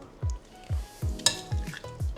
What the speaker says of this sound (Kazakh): Барлығын жақсылап араластырамыз.